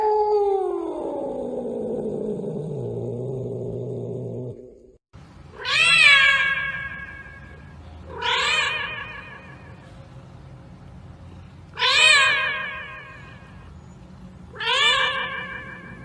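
A cat meows four times in a row, loud and close, each cry rising then falling, after an opening stretch of a lower drawn-out tone.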